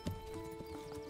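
Horse hooves clip-clop in the medieval city-building game Manor Lords, a short burst of quick, light steps with a brief whinny-like tone at the start, all over a steady musical drone.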